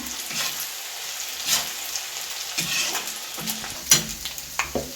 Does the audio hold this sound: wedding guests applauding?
no